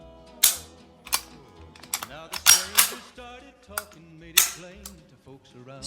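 Pistols including a Type 14 Nambu, Norinco 213 Tokarev, Springfield Hellcat Pro and Beretta 1934 dry-fired in turn, giving sharp close mechanical clicks of trigger break and reset in irregular bursts, with faint talk between.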